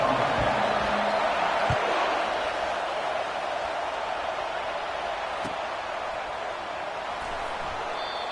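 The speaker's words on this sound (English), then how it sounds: "This crowd bringing an ear-splitting welcome to their visitors." A stadium crowd in a college football video game holds a steady, dense roar of cheering and noise that runs unbroken throughout, loud and enveloping, with no talking over it.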